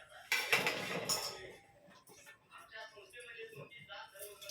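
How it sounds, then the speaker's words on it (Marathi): Pumpkin pieces tipped into a pressure cooker in a home kitchen, a loud clattering burst of metal and dish clinks up front, then softer scraping and knocks while someone talks quietly. "तर आता कुकरमध्ये ना भोपळा टाकून घेते"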